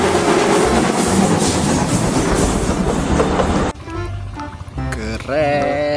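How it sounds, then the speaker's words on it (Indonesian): Railway train wagons roll past at close range with a loud, dense clatter of wheels on track. The rumble cuts off abruptly partway through, leaving quieter tonal sounds behind. "ada gerbong kereta api"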